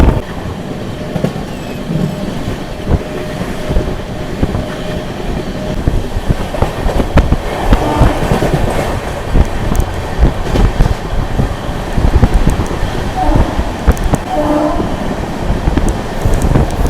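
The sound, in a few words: train running, Puri to Kolkata train journey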